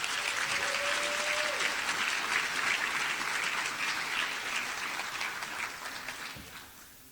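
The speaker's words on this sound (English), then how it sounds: "Let's give a big round of applause for Mr. Gregory Mcdough, Smith Teacher of the Year." A school district crowd applauds a Teacher of the Year honoree, a dense, sustained wash of clapping that holds steady and then slowly fades toward the end, heard from within the audience.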